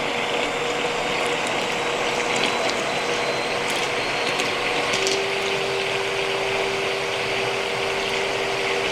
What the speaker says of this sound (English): I don't think I've ever blended anything in such a small pot